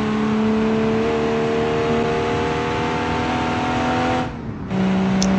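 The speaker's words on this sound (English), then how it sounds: "The car accelerates very good." A 1947 car built in Automation and driven in BeamNG accelerates in a loud, steady engine drone with a rising tone, then briefly cuts off and resumes at a lower pitch.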